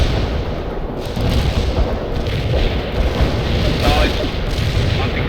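Artillery barrage in World in Conflict, a dense continuous roar of overlapping booms and blasts, loud and sustained throughout, with speech faintly mixed in.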